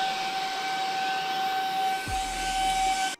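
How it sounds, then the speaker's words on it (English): A Greenote GSC50 cordless vacuum cleaner fitted with an extension pole and crevice tool, a steady high whine and hiss running close and loud, with a low thump near the end before it cuts off. "Attach the extension pole and add the crevice tool. And this is great for reaching stuff like this."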